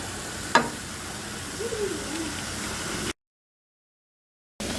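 Ground beef and sweet potatoes cooking in a lidded skillet give a soft, steady sizzle. A brief clatter comes near the start, then the sound cuts to silence before it briefly resumes.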